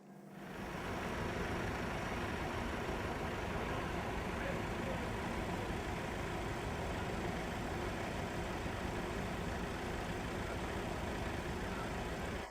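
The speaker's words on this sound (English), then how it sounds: "There are always reasons to start the engine." A Massey Ferguson tractor engine starts and then runs steadily, a loud, continuous low diesel rumble with a constant throb that holds at the same level throughout.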